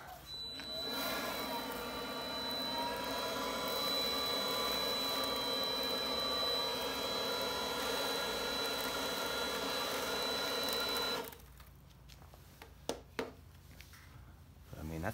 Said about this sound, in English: I'm just using a battery powered DeWalt blower here.